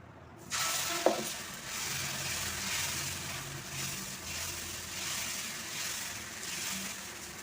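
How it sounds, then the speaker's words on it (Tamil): Corn flour dosa batter poured onto a hot pan sets off a sudden sizzle that settles into a steady hiss, with a brief clink near the start and no talking. "இன்னொரு தோசை ஊற்றிக்கிடுவோம்"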